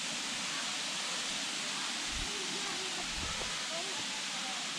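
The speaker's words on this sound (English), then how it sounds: "you wouldn't even know there was a waterfall here, let alone if it wasn't for the sound." Steady broadband rush of Cayuga Falls, a small 11-foot waterfall on a wooded state park trail, heard as a constant hiss from a distance with faint tonal traces layered on top.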